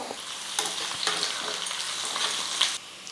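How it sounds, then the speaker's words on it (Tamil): Small onions and curry leaves sauté in a pan for a ridge gourd dish, giving a steady broad sizzle with a few soft stirring scrapes, close and fairly loud, with no voices. "பாருங்கள் வெங்காயம் வந்து இந்த அளவுக்கு நல்லா வதங்கணும்"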